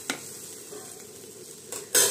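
Potato curry being stirred in a pan as water is added, with a soft steady sizzle and brief scraping stirs near the start and end, close and fairly quiet, no talking.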